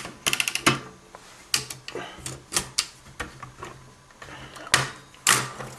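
Removing the platen from a 1947 Remington No. 17 typewriter makes a close series of sharp mechanical clicks, clacks and clunks, irregular and varied in loudness across the whole stretch.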